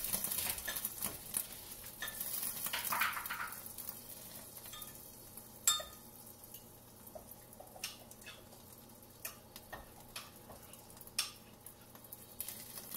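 A spinach omelet frying in a pan, giving a soft steady sizzle and patter with occasional sharper ticks and clicks from a utensil. The sound is faint and close, with no voices.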